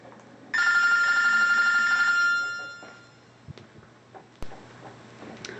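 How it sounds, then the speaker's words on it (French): A mobile phone rings loudly for about two seconds with a bright, trilling electronic tone during a video game session, then fades, followed by faint clicks and game sounds in the background. "on m'avait appelé sur mon téléphone"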